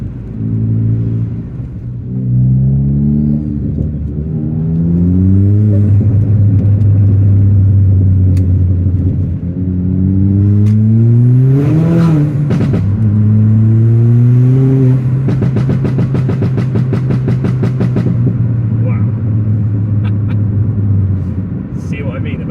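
A Hendy Performance Ford Fiesta ST MK7 tuned to HP300 drives with a steady engine drone that rises and falls through the revs, a near in-cabin rumble running under continuous talk, with faint crackles late on.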